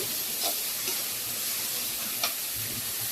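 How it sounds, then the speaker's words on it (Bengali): Fish frying in hot oil, a soft steady sizzle with a few faint pops and crackles, quiet and alone. "আর মাছগুলো প্রচুর ফুটতেছে আর কি"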